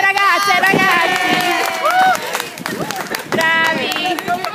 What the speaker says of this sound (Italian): Lo meritano, un applauso queste due ragazze, ragazzi!